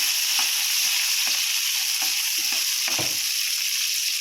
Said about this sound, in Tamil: இதை லைட்டாக வதக்கிக்குவோம்.